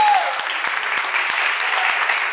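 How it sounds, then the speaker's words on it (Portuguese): A church congregation at an afternoon service applauds in a steady, dense wash of clapping, fairly loud and sustained, with a voice briefly heard at the start. "Aplaude Jesus e dá um glória a Deus essa tarde."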